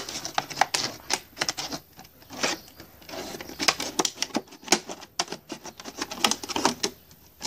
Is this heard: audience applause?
no